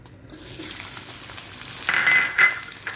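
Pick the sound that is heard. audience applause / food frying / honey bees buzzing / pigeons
food frying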